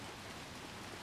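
Steady rain pours down in Little Nightmares 2, a soft, even hiss of falling water that holds at a constant low level throughout with no voices.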